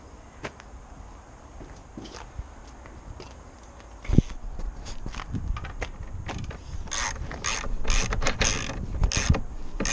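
A ratchet works a bolt on the rear of an Aprilia RS125 motorcycle, with scattered metallic clicks and clanks, then a faster run of ratcheting strokes near the end, up close with no speech.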